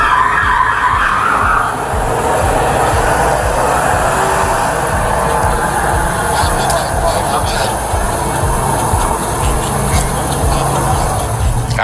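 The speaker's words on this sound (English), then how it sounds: "A squealing can be heard from Jones's vehicle as he drove into the police vehicle." A car's tires squeal loudly and continuously as it drives into a police vehicle during a 2022 SWAT standoff in Phoenix, Arizona, with a rough, noisy engine and road roar throughout.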